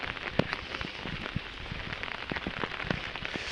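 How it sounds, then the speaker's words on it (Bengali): Rain, falling after a long dry spell, pattering steadily in the open outdoors with scattered sharp drops and crackling taps over a dense, even hiss that lasts throughout. "অনেক দিন পর বৃষ্টি হচ্ছে"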